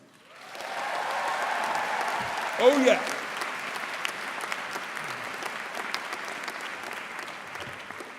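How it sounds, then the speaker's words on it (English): A large audience at a university graduation ceremony breaks into sustained applause for families and friends, a dense wash of clapping held steadily throughout, with a brief voice rising above it early on. "let's have a huge round of applause for families and friends"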